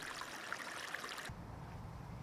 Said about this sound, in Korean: 시냇물이 흘러가고